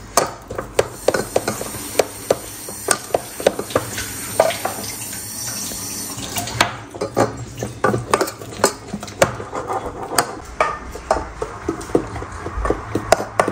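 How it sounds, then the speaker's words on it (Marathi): Gram flour batter being whisked by hand in a bowl, a steady run of quick sloshing strokes and light clinks against the bowl, close and continuous with no talking. "अगोदर 1-2 मिनिटं चांगलं फेटायचं आहे आपल्याला हे पीठ"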